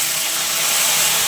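Lightly fried potatoes dropped into hot oil with cumin tempering while making chicken curry, giving a steady, close, bright sizzling hiss that runs unbroken through the short moment with no talk.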